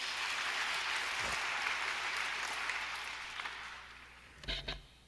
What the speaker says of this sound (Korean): 하나님께 감사의 박수 올리시겠습니다